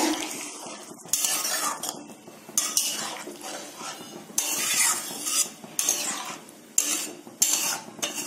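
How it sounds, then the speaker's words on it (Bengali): Water is stirred into mushroom masala in a pan: repeated bursts of a metal spoon scraping and clinking against the pan, with a soft wet sizzle beneath, close and fairly loud. "জল দিয়ে ভালো করে জলটাকে মিক্স করতে হবে"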